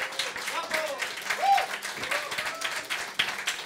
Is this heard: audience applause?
yes